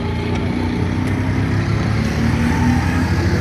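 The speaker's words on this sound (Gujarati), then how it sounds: "બાઇક જાય છે પલ્સર." A Pulsar motorcycle passing on a road through a forest area near Pavagadh, its engine a loud, steady, close rumble that holds for the whole few seconds with no voices over it.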